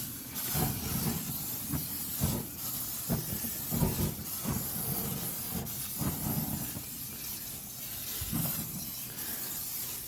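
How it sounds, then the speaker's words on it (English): Broadband hissing and sizzling fills the clip, with repeated bursts of coconut oil spray hitting a hot grill grate in short pulses, close and fairly loud. "You're going to condition the grill grate with the spray."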